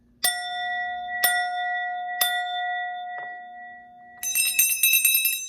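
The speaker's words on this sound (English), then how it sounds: "Did my 3 bell rings without a hitch." A clear metal bell rings three separate times at a steady one-second pace, each strike sustaining and decaying, followed by a quick cluster of brighter chiming tones; no voices.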